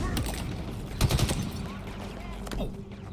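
Gunfire in the video game Halo Infinite, with a quick burst of several shots in the middle over continuous game background noise and a few fainter reports later on.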